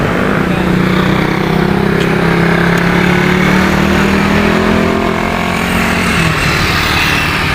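Loaded motorcycle on the Marilaque highway, its engine droning steadily and close for the whole stretch amid dense road noise, pitch shifting slightly near the end.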